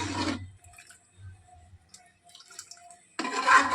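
Water is poured into a mutton curry pot over a medium flame in two short splashing bursts, one at the start and one at the end, with faint drips in the quiet between.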